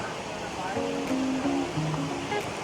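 The Senaiga stream, fed by the Salton waterfall at the bottom of Val Senaiga in the Bellunese Prealps, rushes in a steady broad wash of water noise while a person talks over it.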